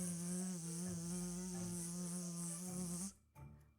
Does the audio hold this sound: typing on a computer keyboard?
no